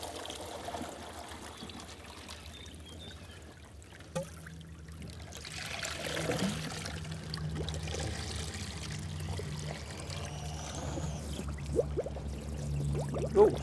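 An olive biofilter sinking into deep water gives soft trickling and bubbling gurgles that rise and fall, close but faint, against a low background hum, with no talking.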